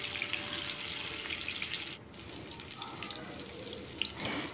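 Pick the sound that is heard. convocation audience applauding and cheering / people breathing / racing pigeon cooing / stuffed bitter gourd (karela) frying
stuffed bitter gourd (karela) frying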